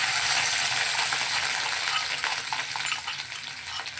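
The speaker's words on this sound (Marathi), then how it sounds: "कढईत टाकलं दोन चम्मच तेल त्याच्यामध्ये हिरवी मिरची लसण आणि जिरं" Steady, close sizzling of green chili, garlic and cumin frying in two spoons of oil in a kadhai, with broadband crackle and occasional sharper pops, no voices.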